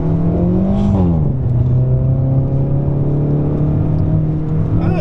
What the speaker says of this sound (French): moi je trouve que ton bruit d'échappement à l'intérieur, c'est sympa.